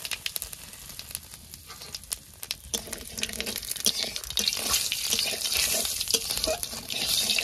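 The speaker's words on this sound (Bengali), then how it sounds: "মাছ ভাজার তেলের উপর দিয়ে দেবো জিরে আর তেজপাতা" Cumin seeds and bay leaves fry in oil left from frying fish, starting as scattered pops and scrapes and building into a denser, brighter crackling sizzle.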